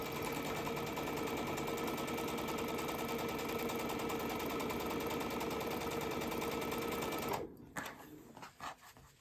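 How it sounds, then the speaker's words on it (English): A sewing machine runs steadily at high speed, chain piecing fabric quilt block components with right sides together, a dense continuous whir that stops abruptly near the end, leaving a few faint handling clicks. "I'm going to get those right sides together and continue chain piecing the components."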